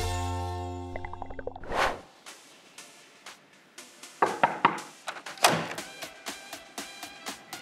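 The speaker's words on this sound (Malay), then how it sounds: "Jom Farah, kita ketuk sekarang." Someone knocks on the front door of a house in Malaysia. A run of sharp, close thuds comes in uneven bursts, with faint scuffs before them.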